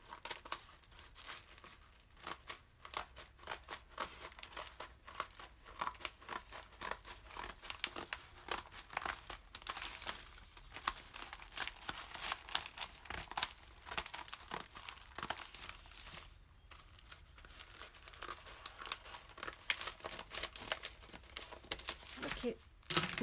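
Paper rustles, crinkles and tears continuously as newspaper is cut into strips and handled for an upcycled Easter basket craft, the crackling steady and close with no speech.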